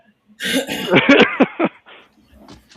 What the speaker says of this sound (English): Just old men hacking and coughing